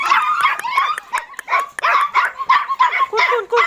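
Puppies, including a brindle one, bark and yip in quick overlapping bursts close by, a busy run of high yelps and short barks with no talk.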